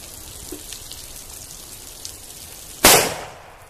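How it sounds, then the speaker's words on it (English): A single sharp blast from a .45 Colt Lever Revolution round fired into a water jug, with a splashing burst after the report, following a few seconds of faint background ticks. "we're going to show you how a 45 Colt Lever Revolution round is shot into a water jug"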